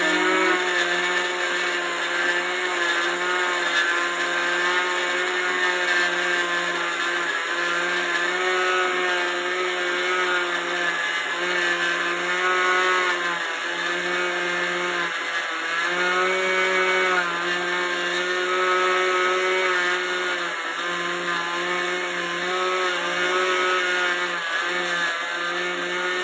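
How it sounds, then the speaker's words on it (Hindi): An electric mixer grinder grinding flaxseed runs steadily throughout with a loud, continuous whining drone and no talk over it. "अब हम मिक्सर में पीसेंगे इसको।"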